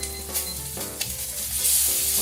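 Steak sizzles steadily in a frying pan, a dense, close crackle with a few scraping stirs and no talking.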